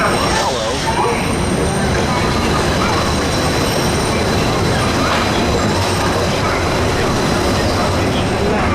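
Riding the Disneyland monorail gives a loud, steady rumble and whir of the moving car, with a faint high whine and voices talking throughout.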